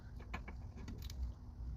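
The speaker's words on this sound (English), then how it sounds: "And then I switch over to my ratcheting breaker bar." A ratcheting breaker bar works a strut nut on a 2008 Toyota Camry, producing a few quiet clicking and creaking ratchet sounds in short irregular bursts, close and faint.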